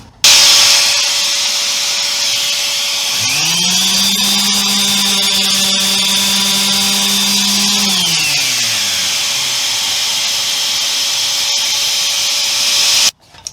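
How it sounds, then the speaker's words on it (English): A power sander grinds loud and close against the wooden curves of an Edwardian coat rack, a steady drone that rises in pitch midway and then settles back. "now it's going to be a matter of carefully sanding these curves."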